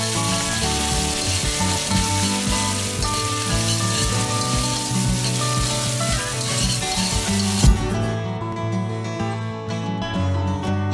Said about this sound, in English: Frying shallots is usually the first step of the recipe